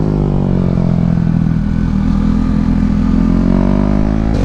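KTM 390 Duke single-cylinder motorcycle running on a race track, its engine a loud, steady, close buzz holding a constant pitch throughout, briefly lifting near the end.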